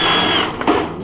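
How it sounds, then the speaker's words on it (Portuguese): A power drill grinds out a rivet in a metal sheet, a loud high whine at full speed that cuts off partway and spins down, followed by a brief clatter. "Você encaixa a furadeira em cima dele"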